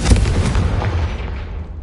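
A Confringo blasting spell explodes in Hogwarts Legacy, a loud, close boom with a sharp onset that rumbles and fades out over about a second and a half.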